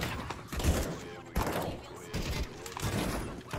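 Bursts of MAC-10 submachine gun fire in CS:GO on a custom McDonald's map, several sharp rapid volleys separated by short pauses, with background chatter mixed in.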